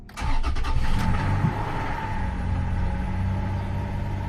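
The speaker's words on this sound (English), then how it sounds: "Let's try to see if it cranks." A Toyota Tacoma pickup with 84,000 miles is cranked for its first start in a project revival. A brief burst of cranking quickly catches, and the engine settles into a steady, rumbling idle nearby.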